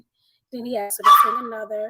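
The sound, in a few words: dogs barking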